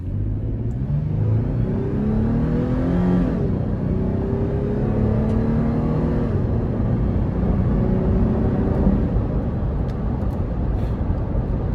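A 2017 Toyota 4Runner with its 4.0-litre V6 pulls hard at full throttle, a steady loud engine drone rising through the gears with continuous rumble heard from inside the cabin.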